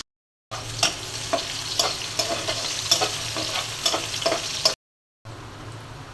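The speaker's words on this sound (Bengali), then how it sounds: "পেঁয়াজটা হালকা ভেজে নিলাম।" Chopped onion sizzles steadily in hot oil for a meat curry with papaya and potato, with a spoon scraping and stirring in a repeated rhythm, close and fairly loud, broken by a brief silence.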